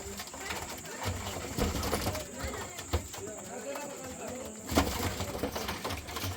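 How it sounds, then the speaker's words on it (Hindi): Pigeons coo softly and repeatedly close by, mixed with faint rustling and other background sounds. "ये वफादार कबूतर है"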